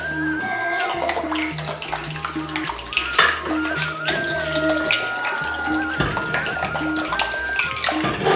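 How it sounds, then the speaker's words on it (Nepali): Water poured into a cooking pan of frying lung pieces with egg added, a steady hissing, splashing wash that runs the whole time, close and fairly loud, over a sustained tonal hum. "पानी थप्नुपर्छ"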